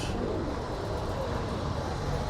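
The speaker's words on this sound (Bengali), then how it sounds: "অনেক অনেক কবুতর" Many pigeons coo on a busy street beside a market in Austria. The cooing sits within steady, dense street noise that carries on throughout.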